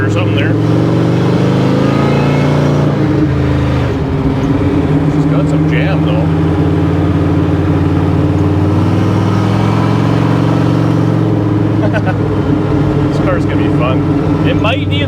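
A hot rod accelerating hard from a roll to break its tires loose, the engine roaring loud and steady throughout with sustained low rumble, while people talk over it.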